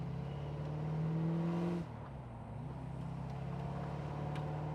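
A car pulling away in third gear on an Australian country drive, its engine droning low and steady, then dipping as the gear strains before settling back into a level hum.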